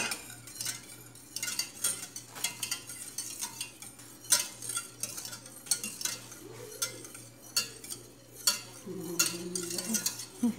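A spoon scrapes and clinks around a pot of creamy milky gulaman mixture as it is stirred, making irregular metallic taps and scrapes over a low background hum, with faint voices now and then.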